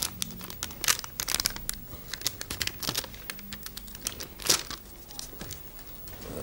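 Packaged ready-made Bock plaster from Gelsenkirchen being unwrapped, giving close, irregular crinkling and tearing rustles in short bursts with brief pauses.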